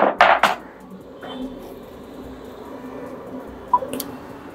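An Honor X9b 5G smartphone drops from a pocket onto the floor, giving a quick cluster of loud, sharp clattering impacts, followed by quiet handling noise and a couple of fainter taps.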